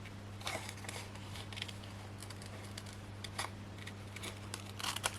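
Scissors snip around a round craft card shape in short, irregular close cuts over a faint electrical hum, with no one speaking.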